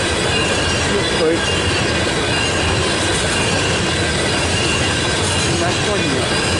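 A Norfolk Southern freight train passes at Fostoria, Ohio, a loud continuous roar of rolling wagons with wheel squeal and clatter holding steady throughout.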